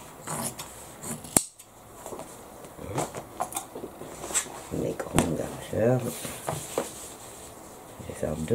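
Scissors cutting through fabric for a cosplay pouch, a series of close crisp snips and rustles spread through the stretch while someone talks over them.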